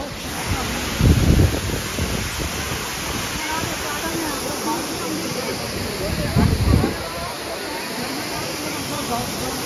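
Manthokha waterfall in Skardu roars as a constant loud rush of falling water mixed with wind buffeting the microphone. A voice talks over it throughout.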